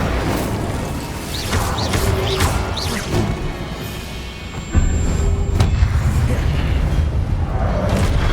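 Booming spell explosions from Hogwarts Legacy crash repeatedly amid game effects, with a louder, sustained blast surge near the end.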